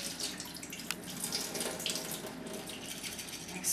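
Rinse water drains steadily from soaking grain being prepared for sprouted flour, a continuous broadband splashing and trickling flow heard close and alone with no talk.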